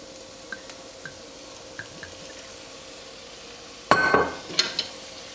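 Sliced onions with rice wine are stirred in a frying pan for a chicken stir fry, a soft sizzle with faint taps, then a louder burst of stirring and clinking utensil sounds toward the end.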